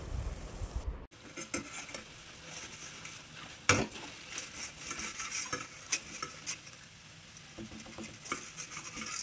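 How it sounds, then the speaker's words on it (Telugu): Chakralu snacks frying in hot oil, a steady sizzle under scraping and stirring as they are turned back and forth, with one sharp clack partway through and no speech. "గోల్డెన్ కలర్ వచ్చే వరకు అటు ఇటు తిప్పుతూ ఫ్రై చేసుకోవాలి"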